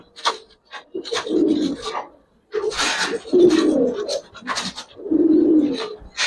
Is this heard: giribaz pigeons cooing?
yes